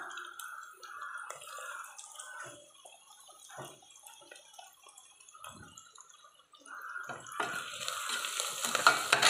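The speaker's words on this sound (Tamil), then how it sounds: "இதை போட்டுட்டு நம்ம நல்லா கிண்டி விட்டுப்போம்." Ginger garlic paste fries with softened onions in a pan for veg biryani, with a soft sizzle and intermittent scraping and stirring strokes close by, getting louder toward the end.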